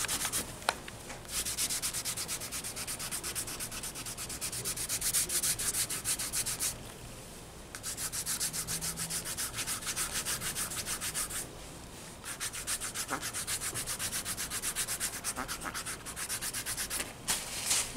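A foot file rubbing skin during a pedicure foot-care treatment, a continuous close scraping and sanding sound in repeated strokes with short pauses between passes, no voices.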